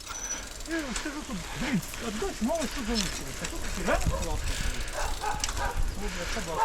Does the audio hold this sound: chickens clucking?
no